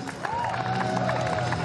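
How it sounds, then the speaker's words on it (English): A crowd at a STIHL Timbersports competition in Australia applauds and cheers for competitors walking on stage, a dense, continuous wash of clapping with a voice over the top. "Please give a big round of applause for Mitch Argent and Chris Owen."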